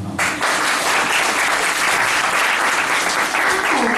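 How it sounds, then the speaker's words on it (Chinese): Warm, dense applause from a lecture audience fills the room, loud and sustained without a break for several seconds. "热烈掌声"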